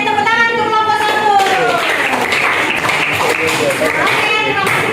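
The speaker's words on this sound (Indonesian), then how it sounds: "tepuk tangan untuk kelompok 1" Classroom children clapping for group 1, a dense burst of many small hands applauding close by, mixed with excited children's voices and chatter throughout.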